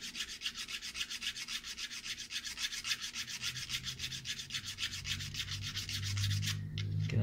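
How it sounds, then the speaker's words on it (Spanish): Hand-sanding a handmade wooden bomber fishing lure, a steady rapid back-and-forth scratching rub in even strokes, close and alone with no talk. "Vaya quedando bien lijadito"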